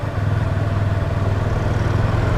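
Yamaha R25 motorcycle engine running steadily in third gear, a continuous low droning hum with even rumble held at constant loudness, no voices.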